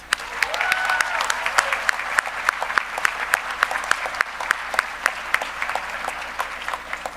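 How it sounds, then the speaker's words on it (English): Applause for graduates and their families at a university graduation ceremony, a warm crowd clapping steadily with a few sharp, close individual claps standing out over the rest, sustained and fading slightly toward the end. "give a hearty round of applause again to all the graduates and their families"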